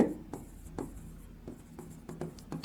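Chalk or marker strokes on a board during a chemistry lesson, a run of short scratchy taps and squeaks at an uneven pace, fairly close with no talk over them.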